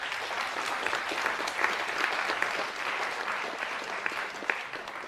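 Steady applause from an audience at an Idea Exchange business event, a dense, even patter of many hands clapping at moderate volume, heard from some distance for the whole stretch.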